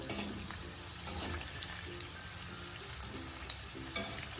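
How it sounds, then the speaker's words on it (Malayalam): Gulab jamun made from bread frying in a pan and being stirred back and forth, a faint bubbling sizzle with light scrapes and a few soft clinks. "നന്നായിട്ടൊന്ന് അങ്ങോട്ടും ഇങ്ങോട്ടും ഒന്ന് ഇളക്കി കൊടുക്കണം"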